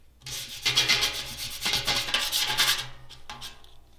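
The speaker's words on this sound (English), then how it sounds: "We're using 60 grit sandpaper." Coarse 60-grit sandpaper scrubs a metal tank surface around a hole before a no-weld patch, loud broadband rasping in uneven strokes for about three seconds, then a couple of short final rubs.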